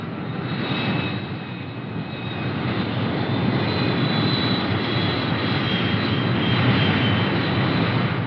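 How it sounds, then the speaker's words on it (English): Fighter bomber aircraft taking off from an air base in a 1950s US Army film, a steady, loud engine roar that holds continuously throughout with a faint high whine above it and no talk. "Back at the base, the fighter bombers take off."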